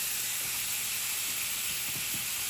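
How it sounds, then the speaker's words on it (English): New York strip steaks sear in a hot pan with a steady, continuous hiss and sizzle, close and even throughout with no talking. "Gonna sear really nice. Get a nice sear out of that."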